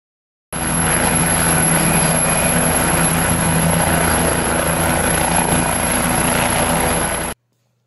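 A big red toy helicopter gives off a steady, loud whirring drone with a thin high-pitched whine, running continuously for about seven seconds without any talking.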